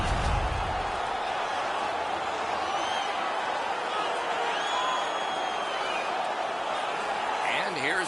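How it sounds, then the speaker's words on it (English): Home crowd in an ice hockey video game roars in a sustained wash of cheering and noise, with whistles and shouts over it and a commentator talking throughout. "The home crowd is ecstatic."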